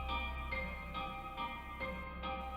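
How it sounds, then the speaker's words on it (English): A Devil May Cry 5 soundtrack passage plays a digital piano with its mechanical key noise turned up and distortion added. Evenly spaced clunking notes repeat about twice per second at a low, quiet level. "you hear that sort of clunking sound? They've gone in on the piano and they've turned up the key sound of the digital instrument"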